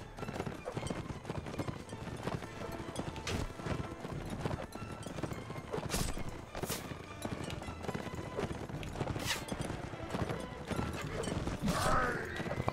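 Horses of mounted archers gallop in the Mount and Blade Warband game, with rhythmic hoofbeats, clip-clops and an occasional whinny over a busy battle soundscape of clashes and effects.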